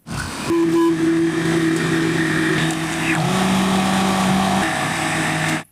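A blender churns paper pulp mixed with water, a loud, continuous motor whine with sustained tonal hum that shifts pitch midway as the load changes, running steadily for several seconds before cutting off.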